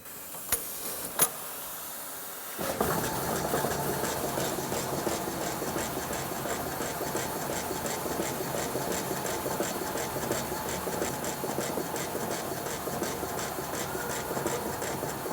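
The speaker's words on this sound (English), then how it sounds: "Barring engine is running" A steam-driven barring engine turns the flywheel of a large museum engine. After a couple of faint knocks, it starts up into a steady, rhythmic mechanical chugging and rumble that carries on evenly.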